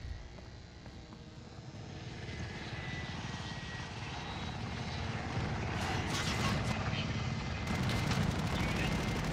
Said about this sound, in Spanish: Pero hay un helicóptero afuera